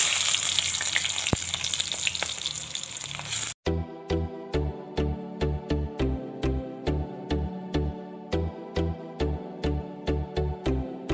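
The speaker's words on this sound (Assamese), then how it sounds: "এতিয়া বনাম তেল গৰম হৈছে ইয়াতে অলপমান পুৰণ দি দিলোঁ" Panch phoron seeds dropped into hot oil make a short burst of bright crackling sizzle, and then a steady, evenly spaced run of rhythmic tonal knocks takes over.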